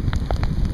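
Heavy rain from a sudden storm on a road near Cardwell, Montana: a loud, dense patter of drops with a few sharper splats close by, steady throughout the brief moment.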